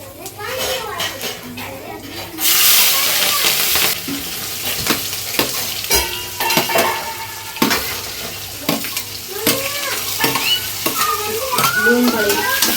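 Mustard seeds and cumin sputtering and sizzling in hot oil for a masala dosa filling, with chopped onion ready nearby; a steady close frying hiss with crackles and stirring clatter, while children's voices chatter in the background.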